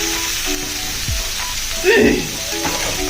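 Dried fish paste frying in a pan gives a steady sizzle, joined by a few knocks and a short burst of nearby voices partway through.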